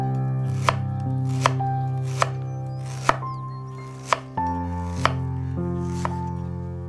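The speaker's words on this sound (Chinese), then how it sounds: "一大块生姜切片" A knife slicing a large piece of fresh ginger on a cutting board, roughly seven crisp, evenly spaced chops over a steady sustained musical background, close and clear.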